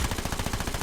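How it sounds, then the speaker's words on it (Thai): Rapid, continuous automatic gunfire from a submachine gun in Call of Duty Mobile, dense and fast-paced with no pauses, loud and close. "นี่เสียงมันเหมือนปืน"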